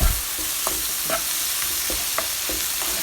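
Tomatoes with three herbs and salt stirred in a frying pan, a constant close sizzle punctuated by soft scrapes and pushes of the spoon every half second or so.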